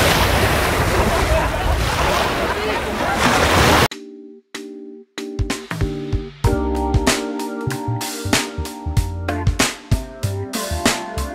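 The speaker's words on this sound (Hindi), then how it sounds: "और रास तनूरा बीच पानी पे मैं आ गया हूँ" Ocean surf at Ras Tanura beach rushes as steady broadband wash for about four seconds, then gives way to music with sharp repeated beats.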